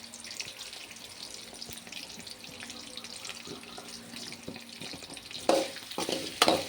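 Onions, crushed garlic and a couple of dried red chillies sautéing in oil for raw mango rice, a close steady sizzle with repeated stirring scrapes, growing louder and busier toward the end, no talking.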